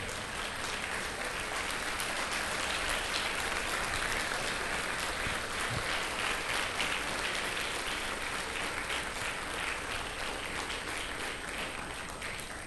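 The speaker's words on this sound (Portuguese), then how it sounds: "E quem ama a Deus, fica de pé e aplauda o nome dele." A church congregation applauding, a long unbroken wall of many hands clapping that holds at an even, moderate level throughout, with no speech over it.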